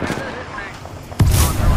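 Gunfire erupting in the battle royale game Apex Legends during a night match, a sudden heavy burst of shots that follows quieter game ambience and in-game voice, loud and sustained to the end.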